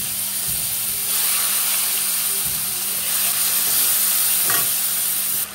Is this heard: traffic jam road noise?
no